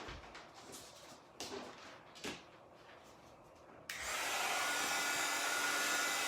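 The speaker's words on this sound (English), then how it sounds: "Let me get my little hot heat gun out" Faint shuffling and a few knocks, then a heat gun starts up with a steady loud whoosh of hot air and keeps running, close by.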